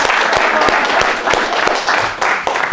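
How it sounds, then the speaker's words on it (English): Audience applause with dense, steady clapping fills a room at a motivational talk for the Ole Miss women's basketball team, loud and continuous throughout with a few sharper individual claps standing out. "Come on, clap it"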